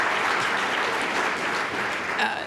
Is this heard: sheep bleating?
no